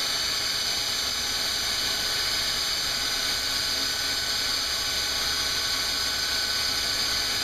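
A belt grinder fitted with a Wuertz Machine Works surface grinding attachment runs with a steady, loud, high-pitched whine and hiss of the belt, constant throughout and close by.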